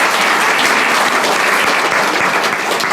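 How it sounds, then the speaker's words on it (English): Sustained round of applause from the audience at a Chandler Unified School District board forum, a dense, loud wash of many hands clapping steadily for three seconds without a break. "give them a round of applause"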